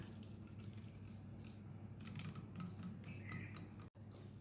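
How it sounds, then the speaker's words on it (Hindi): Grated raw mango is squeezed by hand to press out its juice, giving faint wet dripping and soft squelching pats, quiet and close against a low steady room hum. "अब मैं इसे ऐसे हाथ से दबा दबा के और पानी निकाल दूँगी।"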